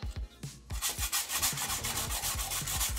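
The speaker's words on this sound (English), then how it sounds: "I started off by scraping around with a screwdriver to remove all the flaky paint that had failed" A screwdriver scrapes flaky, failed paint off the wheel arch of an L322 Range Rover in quick, close, rhythmic strokes, gritty and fairly loud, with no talking.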